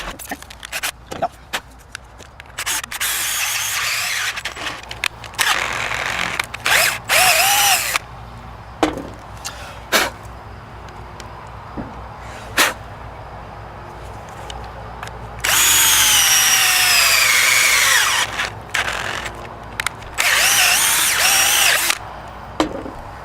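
A power drill tightens a screw on a Magpul MSA-QD aluminum sling attachment, with several short loud whirring bursts and one longer sustained run, separated by pauses and handling noise.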